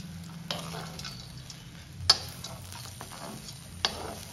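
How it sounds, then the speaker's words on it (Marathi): Peanuts and cashews get stirred into softened poha in a pan over a quiet, low sizzle, with three sharp spoon knocks against the pan and soft scraping between them. "ह्याच्यात आपल्याला हे शेंगदाणे आणि काजू ह्याच्यात मिक्स करायचं"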